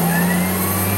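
A moving van's horn in the video game GTA Vice City, one steady, loud, sustained blare that holds unchanged for about a second.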